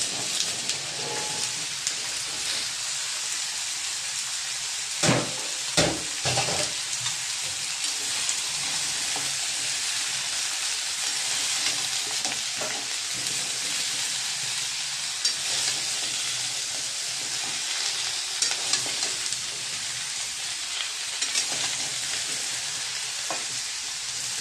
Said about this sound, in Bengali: চিংড়ি মাছটা পেঁয়াজ ভাজা হয়ে গেছে, এবার সবজিটা অ্যাড করছি।